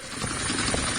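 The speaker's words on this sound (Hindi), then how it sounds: "हेलीकॉप्टर की आवाज भी आप सुन सकते हैं" An Iranian helicopter flying over a US warship gives a steady, loud, rotor-like mechanical drone across the whole moment, dense and continuous with no pauses and no voices.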